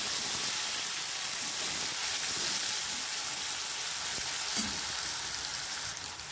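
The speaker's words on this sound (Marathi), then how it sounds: "जो टमाटा कट केलेला तो ह्याच्यात टाकायचा फोडणीसाठी. आणि छान हलवून घ्यायचे बघा." Tomato and curry leaves sizzle steadily in hot oil for a tempering as they are stirred, a loud, continuous close-up hiss and crackle with no talk.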